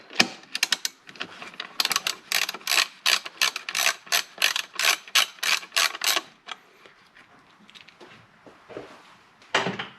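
A ratchet with a 10mm socket works loose the protective shield on a 2013 Subaru Forester, giving close, loud bursts of rapid clicking in a steady back-and-forth rhythm that stops after about six seconds, then one short final burst.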